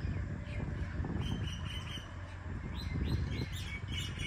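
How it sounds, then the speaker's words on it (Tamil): Myna birds call from a banyan tree beside a lotus pond, a cluster of sharp chirps and whistles repeating over a soft, breezy outdoor background, fairly faint and distant. "ஆலமரத்தில் வெறும் மைனா குருவியாக இருக்குது இன்றைக்கி"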